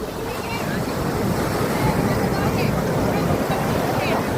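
Sea waves rolling onto a beach in Goa, a continuous broad roar of surf with wind buffeting the microphone and faint crowd chatter blended into the background.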